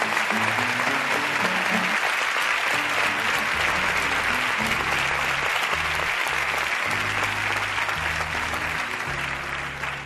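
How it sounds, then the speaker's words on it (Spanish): Studio audience of a Mexican television game show applauding the Navarra guests, a dense, sustained roar of clapping with music playing underneath throughout. "con este aplauso vaya todo nuestro cariño para Navarra, para sus vinos y para toda su gente"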